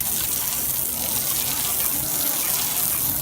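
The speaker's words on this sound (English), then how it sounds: "When you're using your hose, go in a back and forth motion right here" Garden hose spray rinsing dirt from a car's wheel well, a steady loud broadband gush of water hitting the body panels, continuous for the whole stretch with no talk over it.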